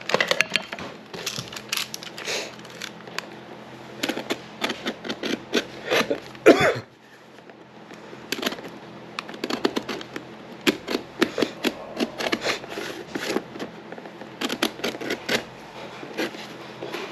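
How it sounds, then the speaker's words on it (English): Stitching thread is cut and a boot sole is prised off on a lackey sided boot, giving close, irregular snips, clicks and scraping rubs in quick clusters against a quiet background. "there's a bit more thread around here that we're going to cut next, and then we're just going to work this piece of sole here off"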